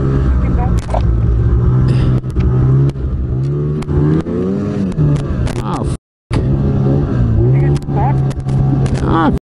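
Snowmobile engine in backcountry riding in southwestern Ontario, loud and close, revving up and down with shifting pitch, cut off by a brief dropout, while a rider talks over it.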